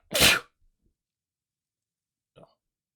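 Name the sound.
sneeze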